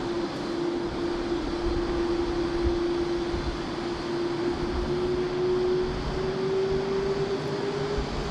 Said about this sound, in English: Enjoy this A330, this close-up.